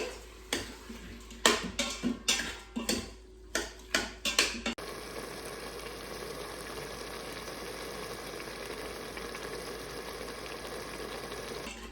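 Zucchini with garlic and salt stirred in an Instant Pot: a quick run of sharp scraping clacks for a few seconds, then a steady soft sizzle that continues alone.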